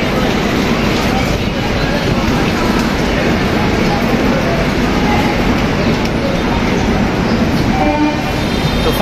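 Central Railway Rajdhani Express pulling out of Mumbai CSMT toward Hazrat Nizamuddin, heard as a continuous loud rolling rumble and clatter of the train, with a voice talking over it throughout.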